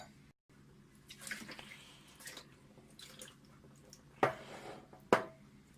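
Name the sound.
deionized water poured over a telescope mirror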